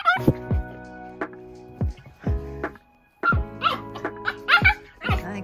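An excited teacup toy poodle barks and yips in short, high-pitched bursts before a walk, close and loud, with irregular gaps between clusters of barks.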